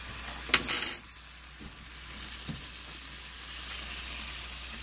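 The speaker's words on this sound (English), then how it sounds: "teaspoon of garlic right in the center. Fry up a little bit." A teaspoon of garlic sizzles in a frying pan for an egg frittata, giving a steady, close hiss after a brief clatter at the start, with no talking.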